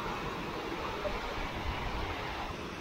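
Forceful water of a reverse waterfall in Sandhan Valley, Bhandardara, roars as a steady, dense broadband rush with a constant, even level throughout, with no voices.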